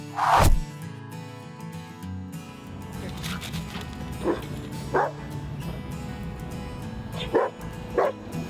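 A human remains detection dog barks sharply a few times, spaced out over a steady low background hum, with one loud bark near the start and quieter ones later.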